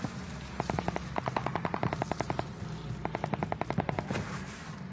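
Video game gunfire in two rapid automatic bursts, each a quick string of sharp, evenly spaced shots, loud and close with a brief pause between volleys.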